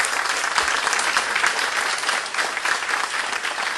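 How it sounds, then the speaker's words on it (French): Audience applause at the inauguration of a public square in Montréal-Nord, a dense, steady clapping from a crowd that holds evenly loud throughout with no talk over it. "On l'applaudit."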